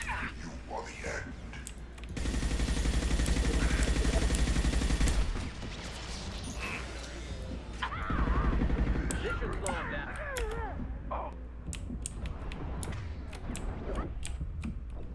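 Heavy gunfire in the Mass Effect 2 video game: a dense, loud burst of sustained automatic fire, then sharp scattered shots and crackling impacts under distorted voices and radio chatter.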